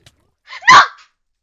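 A Minecraft dog gives one short, loud bark, a single clipped yelp-like sound heard alone with nothing else around it.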